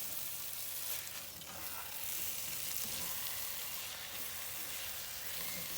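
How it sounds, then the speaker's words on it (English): Onion, garlic and ginger sauté in a pan for a Himachali mutton rara, giving a steady, close, continuous sizzle with faint stirring scrapes and no talking. "So we'll keep sauteing till the raw smell of onion, garlic, and ginger, everything goes away."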